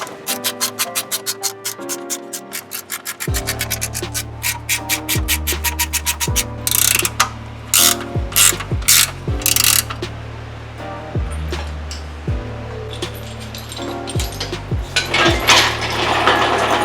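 A ratchet tightens engine brackets on a Toyota 22RE motor going into a 1987 Toyota 4Runner, sounding as loud, close, clicking bursts with metallic clanks and pauses between runs of strokes.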